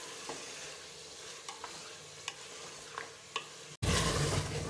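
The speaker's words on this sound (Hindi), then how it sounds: "तो अभी इसमें हमने टमाटर ऐड कर देना और इसको भूनना है।" Chicken and tomatoes fry and are stirred in a pan for haleem, a soft continuous sizzle with light scraping clicks, ending in a sudden louder hiss; no voices.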